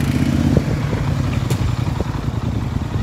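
A Polaris Sportsman ATV rides a wet, muddy trail, its engine a close, rough rumble that rises and dips throughout, with scattered clattering knocks.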